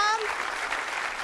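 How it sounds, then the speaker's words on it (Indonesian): A studio audience on a comedy game show breaks into a brief burst of clapping for a contestant, a dense, rushing patter that follows a short tone and fades quickly. "Tepuk tangan dulu untuk Mas Soam."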